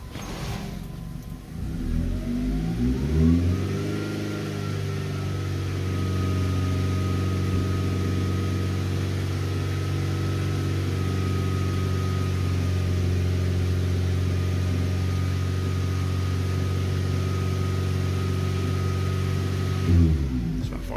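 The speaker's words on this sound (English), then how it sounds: "Increase engine speed to 2500 RPM for 5 seconds." A car engine revs up from idle and holds a steady raised speed of about 2500 RPM for several seconds during a battery and charging test, a loud continuous drone that drops back near the end with no talk.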